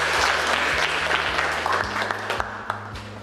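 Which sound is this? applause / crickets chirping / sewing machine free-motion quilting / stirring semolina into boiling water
applause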